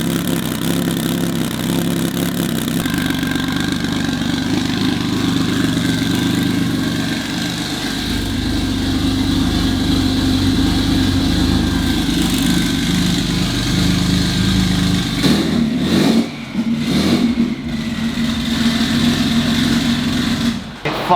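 A Subaru WRX STI fitted with an EG33 engine runs continuously nearby, with a steady, uneven idle drone that shifts pitch partway through and ends with a few sharp blips.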